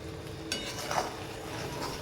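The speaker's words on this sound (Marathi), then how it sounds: "आणि 2 मिनिट आपण हे परतून घ्यायचं" Modak filling of melted jaggery, ghee and poppy seeds stirred in a pan, giving soft continuous scraping and faint sizzling with a few clinks of the spoon against the metal, close and quiet with no voices.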